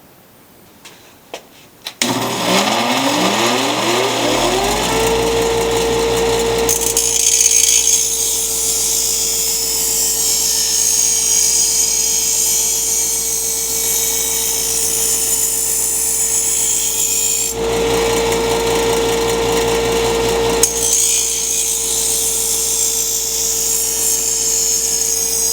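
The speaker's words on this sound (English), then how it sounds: "My grandpa's old grinder still works great. We're going to use it to sharpen that blade." An old Ward's Powercraft bench grinder spins up from a thump into a steady high whine, then grinds a lawnmower blade with harsh rasping contact in long passes, pausing briefly between them, close and loud.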